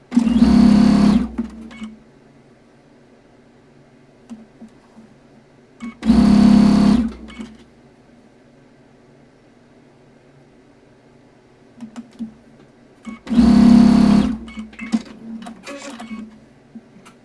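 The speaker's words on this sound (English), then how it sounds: "now it is time to sew our rows together" Sewing machine stitching quilt block rows together, three loud close humming runs of roughly one to two seconds each, with quiet handling noises in the gaps between.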